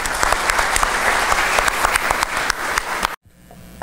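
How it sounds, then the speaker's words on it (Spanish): Loud, steady applause from a crowd, dense clapping that cuts off abruptly near the end, leaving quiet room noise. "Por favor, lo recibimos con un fuerte aplauso."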